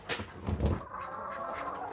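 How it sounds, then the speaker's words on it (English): Farm chickens rush toward feed in a stampede, with a few soft clucks and gobbling calls over a faint rustling background, fairly quiet and close. "Chicken stampede!"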